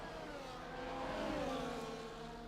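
Several race cars pull out of the pit lane in the F1 24 game at Abu Dhabi, a steady engine drone with a rising, swelling whine that peaks midway and eases off, heard clearly with no talk.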